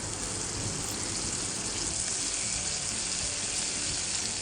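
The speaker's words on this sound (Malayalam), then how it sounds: "നെക്സ്റ്റ് നമുക്ക് ബട്ടർ ഒന്ന് മെൽറ്റ് ചെയ്തെടുക്കണം" Butter, about 20 grams, melting in a hot pan with a steady, dense sizzle and crackle that holds evenly throughout, close and moderately loud with no talking.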